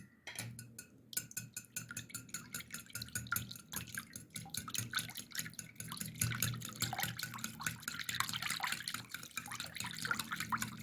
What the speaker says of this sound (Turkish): Ve bir tane yumurtamı dahil ederek çırpıyorum.